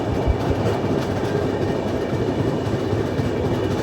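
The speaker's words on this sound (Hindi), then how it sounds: "मुजफ्फरपुर से योग नगरी ऋषिकेश जा रही है ट्रेन, स्पेशल गाड़ी है कोई" A passenger train, a special service from Muzaffarpur to Rishikesh, at a railway station near Laksar, giving off a steady low rumble and hum with faint rail clatter, loud and continuous throughout with no voices.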